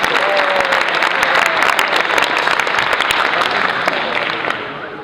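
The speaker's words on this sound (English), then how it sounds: "round of applause for the thank you" Loud, dense applause from an audience at a 2015-2016 BC Fall Qualifier awards ceremony, sustained for several seconds before beginning to fade at the end.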